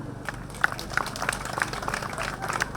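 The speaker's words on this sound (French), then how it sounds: "Applaudissez pour lui" An audience at a political membership rally in Benin claps steadily for a new member, a moderately faint, even patter of applause over crowd murmur.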